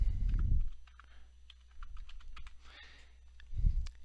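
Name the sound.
typing an IP address on a computer keyboard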